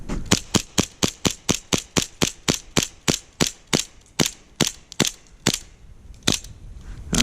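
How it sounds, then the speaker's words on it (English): A Matrix Elite Detonics 1911 .45 gas pistol emptied in a rapid mag dump, about twenty sharp, close pops in a quick steady rhythm that slows and spaces out as the gas runs low. "We'll just kind of mag dump this to as many rounds as we can do before the gas runs out"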